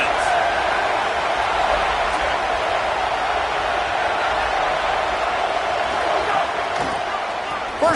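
Crowd at a South Carolina football game producing a dense, loud, sustained roar across the stadium, with a few sharp thuds near the end.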